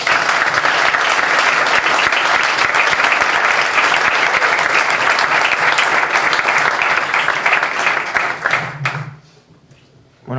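Loud, steady applause from an audience at a book presentation in Barcelona, dense clapping filling the room for about nine seconds before dying away abruptly.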